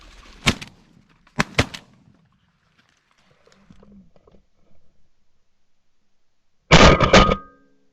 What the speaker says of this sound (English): first shooting of the day for me